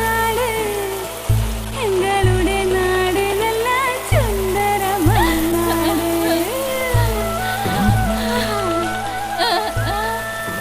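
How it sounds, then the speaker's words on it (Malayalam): Rain falls steadily as a stage sound effect at a multicultural talent show performance, a continuous hiss of drops under melodic music with soft rhythmic beats throughout. "എന്താ ഒരു മഴ!"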